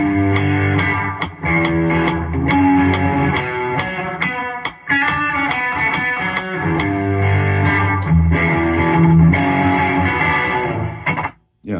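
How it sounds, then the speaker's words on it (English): Electric guitar through a Fender Deluxe amp with lots of reverb and some overdrive plays a loud, sustained run of distorted chords with rhythmic strummed accents, close and alone. "that's a Fender Deluxe with a bunch of reverb on it, overdriven some"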